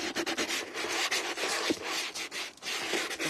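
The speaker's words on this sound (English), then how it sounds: "take your sand block and kind of rough up" A sanding block roughs up the surface of a plastic watering can, giving a steady close scraping rasp in short repeated strokes, loud and alone with no talking.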